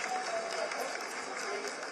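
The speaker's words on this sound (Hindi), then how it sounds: "आप तालियों के गड़गड़ाहट से सुन सकते हैं" Audience applause fills a mission control room as Chandrayaan-3 enters its vertical descent phase for the lunar landing, a steady, dense wash of clapping that holds through the whole stretch.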